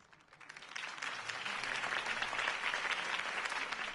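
Crowd applause rising in a Batman video game scene, a dense, steady wash of many hands clapping that swells in over the first second and holds loud to the end, with no voices.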